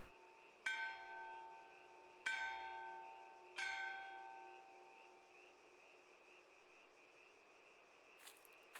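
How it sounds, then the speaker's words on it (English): Three loud, struck bell tolls in the video game Kentucky Route Zero, each a sharp clang followed by a ringing decay, spaced about a second and a half apart over a quiet background. "Bell rings loudly and my cursor has disappeared."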